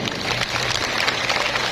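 An audience applauds Sanggar Gentorang with a dense, continuous wash of many hands clapping, steady and moderately loud throughout, with no voices on top.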